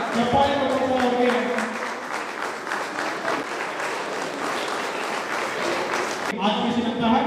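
Former students clapping for a teacher at a school reunion and teacher-appreciation ceremony, sustained crowd applause running throughout, with a short break and then more clapping near the end, with some voices mixed in.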